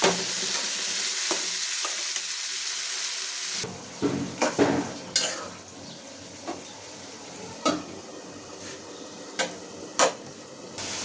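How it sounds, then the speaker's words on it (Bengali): Pigeon meat drops into a pan of spice paste with ginger and garlic, a steady sizzle at first, then the frying hisses under repeated scraping and stirring clicks of a spoon against the pot. "মশলাটা হয়ে গেছে, এখন আমি মাংসটি ছেড়ে দিলাম।"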